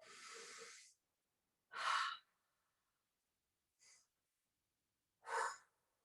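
Breathing during a seated shoulder exercise, a few separate breaths in and out with silent gaps between, one long airy exhale, two fuller puffs and one brief faint breath, close with no talk.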